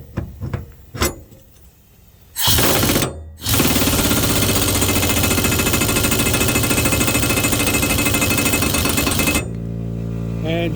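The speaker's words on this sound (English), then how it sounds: "I'm using an impact wrench." An impact wrench hammers loudly and continuously on the blade bolt of a Gravely ZTX-52 zero-turn riding mower, after a few short metallic clanks and a brief burst, running steadily for about six seconds.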